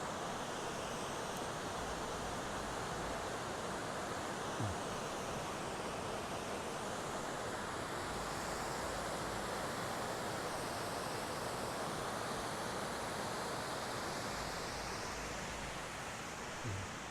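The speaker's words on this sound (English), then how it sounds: "this is the other waterfall that I happened to come across today" A waterfall found along a nature trail sends out a constant broadband rush of falling water, steady and enveloping from start to finish, with no voices heard.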